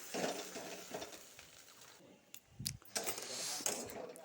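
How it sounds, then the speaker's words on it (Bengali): Bottle gourd leaves are stirred in a frying pan at home, with soft scraping and stirring strokes over a steady oil sizzle that fades briefly and then returns louder. "এভাবে লাড়াচাড়া করতে হয় পাতাটার সাথে"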